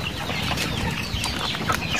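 Chickens cluck and murmur steadily while being fed on a farm, a close, continuous flock chatter with a few sharper calls standing out.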